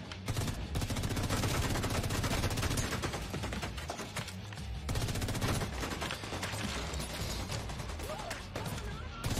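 Enemy gunfire in The Division 2 rattles on almost without pause, a dense rapid automatic barrage with sharp repeated cracks, while a player talks over it.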